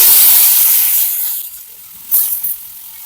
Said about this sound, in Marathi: आता ही एक काळकुडी आपल्याला तव्यावर ठेवायची